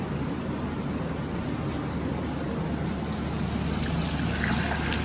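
Milk pours and sizzles into a cornflour sauce in a pan over low heat, a steady close trickling, bubbling hiss with no breaks and no talking.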